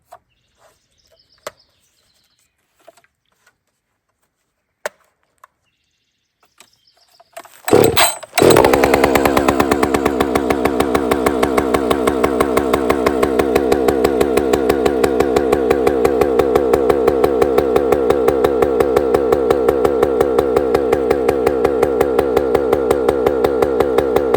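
Husqvarna 562xp chainsaw pulled to life after a few quiet clicks and handling noises, then roaring loud and close at a steady high idle-to-run drone for the remaining stretch, no talking.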